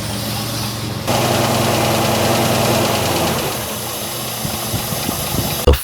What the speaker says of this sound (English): Best running truck in Arizona.